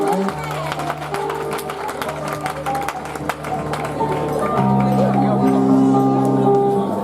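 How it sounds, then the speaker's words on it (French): Wedding reception guests clap loudly and steadily in a crowded hall, the dense applause running under sustained musical tones and some chatter. "On peut applaudir fort le Seigneur."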